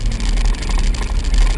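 Jeep Wrangler Unlimited Rubicon in high-range four-wheel drive on a dusty trail, a steady low engine drone with rumbling tire and road noise, close and continuous with no talking.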